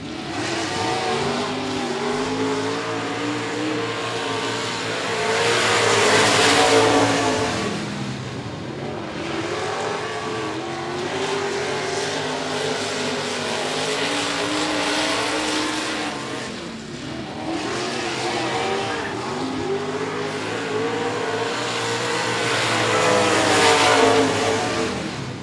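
Outlaw Street Stock race cars roar around the 105 Speedway track in a pack, engines droning and swelling loudly as they pass, with continuous revving throughout.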